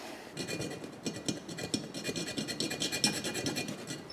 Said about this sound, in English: really slowly and carefully filing it away basically with a razor blade